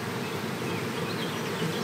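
Honey bees buzz steadily around the egg-laying queen of a nucleus colony, a close, dense and continuous drone with no voices over it.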